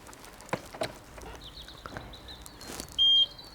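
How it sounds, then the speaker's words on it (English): A series of high electronic beeps from newly fitted parking sensors on a Land Rover Defender, quickening and ending in a sustained tone, over faint outdoor background noise. "I've also fitted parking sensors, hence why they're beeping right now."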